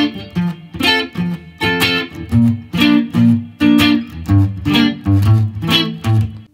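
Distorted electric guitar chords from a song, strummed in a rhythmic pattern of repeated punchy bursts with effects, loud and alone with no talking.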